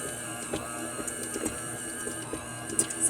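A stand mixer with a dough hook kneads dinner roll dough in a tiny kitchen, giving a steady mechanical whir with soft rhythmic thumps and knocks throughout.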